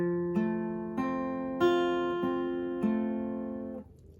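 Fingerstyle guitar plays the opening bar of a song in 6/8, a handful of clear plucked notes ringing over a sustained bass, picked one after another at a gentle, even pace, solo with no voices.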